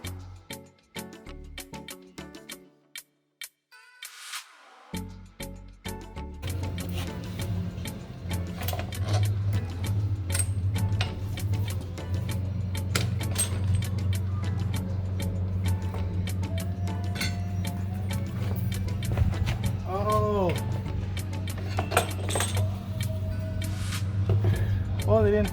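Clinks, mechanical clatter and tool handling from front-wheel removal on a Kawasaki ZX6R motorcycle, close and intermittent over a steady low hum, with a quiet opening that builds.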